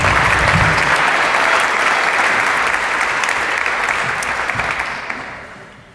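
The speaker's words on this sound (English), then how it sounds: "So round of applause for our lovely contestants." Audience applause for a row of contestants at a leadership event, a dense sustained clapping that fills the room and fades away over the last second.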